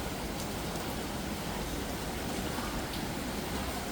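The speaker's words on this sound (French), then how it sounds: "Il pleut tout le temps, en fait." Steady rain falling in Hoi An, Vietnam, a soft, even hiss of drops on surfaces throughout, fairly faint and constant with no voices.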